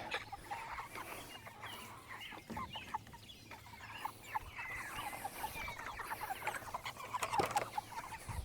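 Chickens clucking softly near barrels of water and feed, a busy scatter of short clucks and faint pattering throughout.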